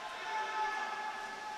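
A referee's whistle at a college men's water polo match, one long sustained blast with steady tone, heard at moderate distance over pool hall ambience.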